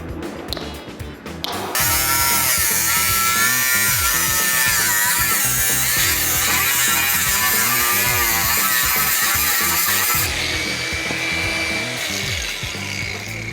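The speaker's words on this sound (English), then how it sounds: "we've chopped off the end of a lithium-ion battery now" A power tool cuts the end off a lithium-ion battery in a scrap yard, starting after a brief quiet moment and then whining loudly and steadily, close up, for the rest of the stretch.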